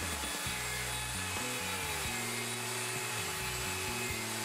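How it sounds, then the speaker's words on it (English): A router climb-cuts a tenon clockwise in a Leigh FMT Pro mortise and tenon jig, a steady loud motor whine with shifting grinding tones as the bit bites into the wood, continuous and close with no talk. "Plunge the router and route the tenon. Start by climb routing clockwise."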